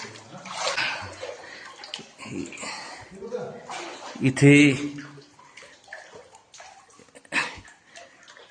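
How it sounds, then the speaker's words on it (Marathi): Someone wades through knee-deep water inside a remote cave in Satara district, with soft sloshing and one louder splash near the middle while a person talks throughout. "आणखीन पाणी वाढलंय आता गुडघ्याच्या माझ्या पाणी गेलं आहे"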